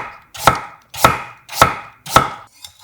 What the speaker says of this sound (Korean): 껍질 벗긴 늙은 호박 250g 준비하고 금방 익을 수 있도록 얇게 편 썰어서